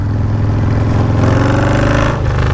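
A Yamaha Road Star Warrior motorcycle engine runs close and loud, a steady heavy rumble with a brief rise in revs near the end.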